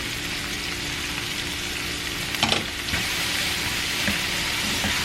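Steady sizzling of taco ingredients frying in a pan with salt and chili powder, constant hiss with a couple of brief stirring clatters, no talking.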